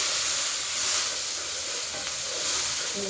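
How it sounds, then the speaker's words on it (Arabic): Onions sautéing in a pan for a red rice dish, a loud, steady broadband sizzle with a faint clink near the end, close and without talk. "نحط البصل بتاعنا ونشوح البصله بتاعتنا"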